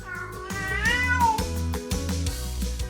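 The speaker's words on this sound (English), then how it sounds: "I am a kitten." A kitten gives a clear, drawn-out meow with a rising and falling pitch, close and fairly loud, over steady low tones that continue throughout.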